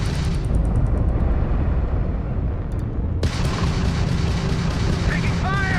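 Starship weapons blasting during a space battle in Starfield: a dense, loud, continuous barrage of booming fire and rumbling explosions, with a voice speaking over the din.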